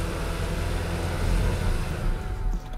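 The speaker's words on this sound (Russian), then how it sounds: "Тоже газ в пол давлю." A car engine drones steadily with the accelerator floored, a dense close roar with a slight swell partway through, the wheels seemingly unable to pull the car along.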